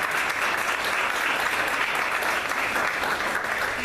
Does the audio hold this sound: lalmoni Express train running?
no